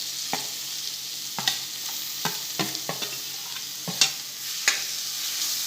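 Crushed peas and chutney are stirred into ragda in a pan over gentle heat; a soft sizzle runs throughout, with about a dozen sharp spoon scrapes and clacks spaced irregularly, close and clear.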